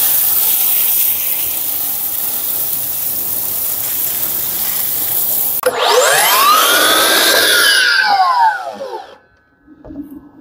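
A water spray rinses algae cleaner off garden fencing: a steady close hiss of spraying water, then a brief whooshing sweep as the spray shifts, before it cuts off near the end.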